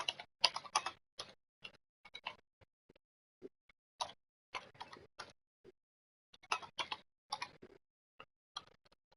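Sparse, quiet clicks and taps on a computer keyboard come in irregular clusters separated by short silences, close and dry with no voices.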